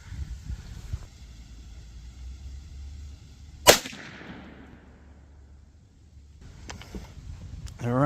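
A single sharp .22 WMR rifle shot fired into a ballistic gel block outdoors, loud and abrupt mid-clip with a fading echo, surrounded by quiet ambient rumble and faint handling noises.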